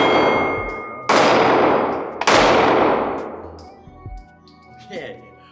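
Two sharp, loud shots from a Ruger EC9s micro-compact 9mm pistol ring out about a second apart, each followed by a long fading echo, then a few quieter metallic clinks.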